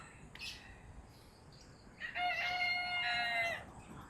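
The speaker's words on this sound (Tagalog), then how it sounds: "At iba't ibang klaseng manok." Chickens on a farmstead near Lipa, Batangas, give a short call and then a long drawn-out crow, moderately distant and fairly faint, with no talking over them.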